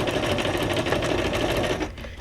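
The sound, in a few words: sewing machine zigzag stitching with neutral thread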